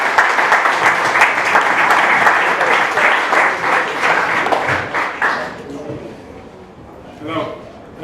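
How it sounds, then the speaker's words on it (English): Loud, dense clapping from a fundraiser crowd for ex-footballer Adi Akinbaye, sustained for about five seconds and then thinning into scattered claps under a voice. "Give a round of applause, please, for Adi Akinbaye."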